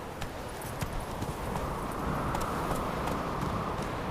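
Roach the horse clip-clopping with steady hoof beats in The Witcher 3, a continuous trotting rhythm over a dense ambient game background, fairly even in loudness throughout.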